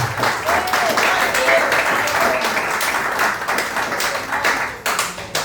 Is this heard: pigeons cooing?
no